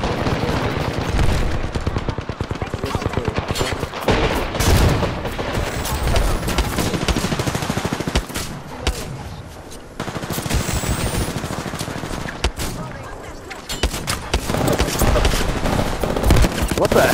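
In the video game Apex Legends, dense loud gunfire includes repeated shotgun blasts in rapid bursts that nearly fill the clip, with brief lulls between volleys.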